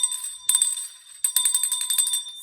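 A small bicycle-style bell rings in two quick bursts of rapid bright trills, close and clear, with a short pause between and a faint ringing tail.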